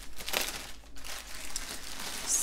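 A plastic bag holding a diamond painting kit crinkles and rustles steadily for a couple of seconds during unboxing, close and fairly soft, with no talk.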